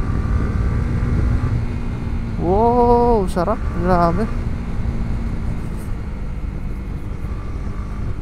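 A Honda CB150X motorcycle engine runs steadily while riding on a mountain road, with a continuous hum mixed with wind rush. A man briefly exclaims over it partway through.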